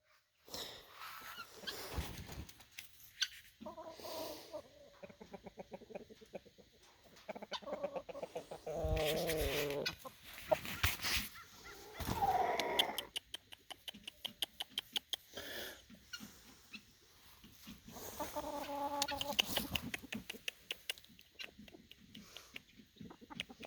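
Chickens cluck and squawk repeatedly, loud and close, in overlapping bursts with short pauses between them.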